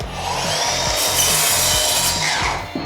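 A cordless 7 1/4 inch circular saw cuts through engineered hardwood flooring, a loud close whine with the grinding rasp of the blade in the wood, winding down at the end.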